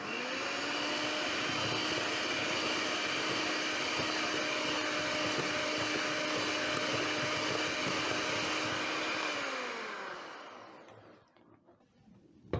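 An electric hand mixer beats batter with vanilla essence at close range in a steady, loud whirring drone for about ten seconds, then winds down and stops, leaving faint clatter.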